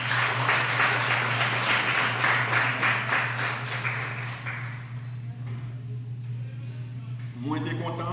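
An audience claps together in a dense burst of applause that holds for about four seconds, then thins out and fades, with a steady electrical hum underneath and some voices near the end.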